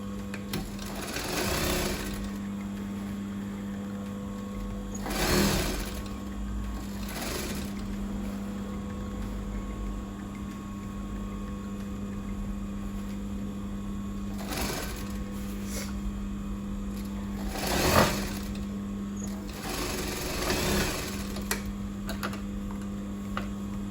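A sewing machine stitches a gathered dress in long continuous runs, a steady mechanical whir with a pronounced hum, broken by short pauses and occasional sharper ticks and clunks, close and alone.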